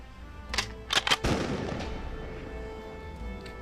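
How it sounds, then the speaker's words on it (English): Tabletop Warmachine battle with a bombard cannon shot effect: several quick sharp blasts followed by a heavier booming report that fades into a lingering rumble, moderately loud and without voices. "The destroyer activates and forfeits its movement to stand up, before unleashing a shot with its bombard cannon at Stryker."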